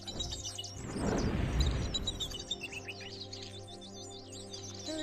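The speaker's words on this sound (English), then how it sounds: "Is that a bird?" Birds chirp in the VR nature game Nature Treks, a flurry of quick bright tweets running throughout over a low steady ambient hum, with a swell of broadband wind-like noise early on.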